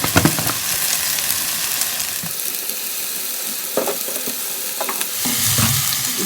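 Goat intestine fries in a pan with turmeric, chili powder and salt, making a continuous sizzle broken by several sharp stirring scrapes and clacks of a spoon against the vessel.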